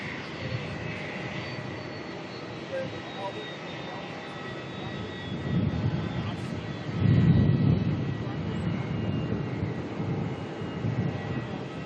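An Airbus A350-1000 jet airliner rumbles steadily at an airport in Melbourne, its broad engine roar swelling around the middle of the clip. Background voices are heard faintly.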